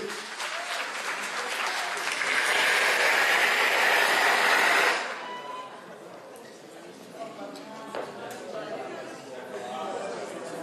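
Loud, dense applause and cheering from a crowd at a Guinean independence anniversary celebration in Manchester, lasting about five seconds before breaking off into scattered murmuring chatter and a few stray claps.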